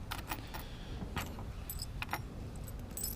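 Old flat keys being sorted outdoors in the sunshine, faint metallic jingles and clinks in scattered bursts over a low background rumble of passing cars.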